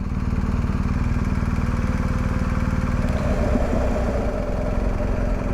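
A BMW R1250 GS Adventure motorcycle riding on city asphalt, its engine droning steadily and close with a low rumble throughout, no talking.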